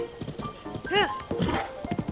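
Horse in the video game Zelda: Tears of the Kingdom, a short whinny with clopping hooves and light thuds around it, close and brief.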